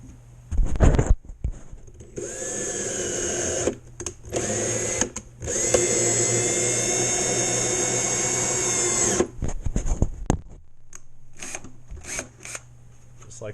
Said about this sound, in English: Put it in your drill. Gently. These are very thin-walled aluminum.